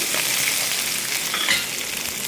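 Green chillies, curry leaves and onions fry in oil for a broken-rice upma tempering. The crackle is dense, even and close, holding steady the whole time with no voices.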